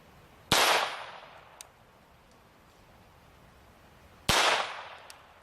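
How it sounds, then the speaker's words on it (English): Two sharp .22 long rifle pistol shots a few seconds apart, each a loud crack with a metallic ring as the bullet strikes a titanium plate, then a fading tail and quiet between. "Starting it off right with a .22 long rifle out of this pistol."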